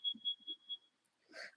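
A short series of high electronic beeps, four evenly spaced chirps, followed by a brief burst of indistinct noise.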